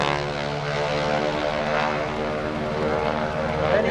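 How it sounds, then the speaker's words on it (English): Propeller airplane flying a wingwalking act at the 2016 Greenwood Lake Airshow, its engine a loud, sustained buzzing drone with a steady pitch, heard alone and fairly close. "he's got to fly that airplane gently"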